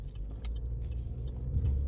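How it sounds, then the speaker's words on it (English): Cars pass along a city street as a faint, steady low rumble of traffic, heard at a distance with no voices. "you got all these cars coming this way"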